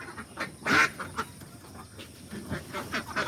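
Ducks quack in a few brief calls at a small Bengali farm holding laying ducks, close and moderately loud amid soft background noise, with no talking.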